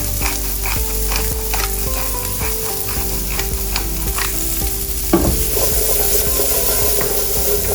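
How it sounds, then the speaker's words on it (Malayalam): Vegetables sautéing in butter in a pan beside beef steak, with a steady loud sizzle and frequent scraping stir strokes throughout and a brief louder flare near the end, no talking. "ഒത്തിരി കുക്കാവരുത്, ജസ്റ്റ് സോട്ട് ചെയ്ത് എടുക്കുക."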